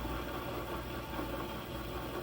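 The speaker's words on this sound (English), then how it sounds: "We're turning it at approximately 200 RPMs." A metal lathe turns at roughly 200 RPM, giving a steady, even motor hum with a low rumble and no breaks, close by and moderately loud throughout.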